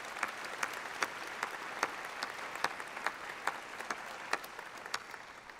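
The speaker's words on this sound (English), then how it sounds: "join me in a round of applause for the medical students of the previous classes." An audience claps for medical students at an osteopathic medicine white coat ceremony, with a sparse, moderate patter of individual hand claps in an uneven rhythm and no voices.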